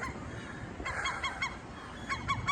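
A large seagull on a brick walkway in Portland, Maine, gives a few repeated honking calls in two short bursts, fairly faint over outdoor background noise.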